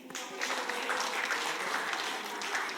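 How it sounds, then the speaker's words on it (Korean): Congregation applause during a Sunday youth worship sermon at a church in Seoul: a steady, dense wash of many hands clapping together, sustained and even throughout at a moderate distance. "박수 한번 주시죠"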